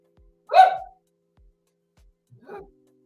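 Two separate dog barks in a quiet room, the first loud and sharp, the second shorter and softer a couple of seconds later.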